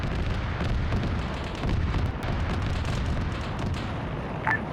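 A missile striking its target in a combat flight simulator, heard as a dense rumbling explosion and sustained roaring blast noise, loud and continuous with a few sharper cracks.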